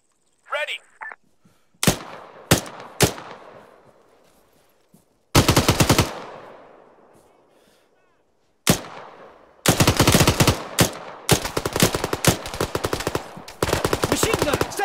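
Gunfire in the video game Arma 3: single sharp shots, then loud sustained bursts of machine gun fire, close and rapid, with faint voices early on.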